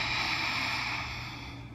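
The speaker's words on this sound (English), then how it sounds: "So Uijayi Breath sounds like this." Ujjayi breath is drawn audibly through the nose, making a soft, breathy throat hiss close to the microphone that fades slightly toward the end.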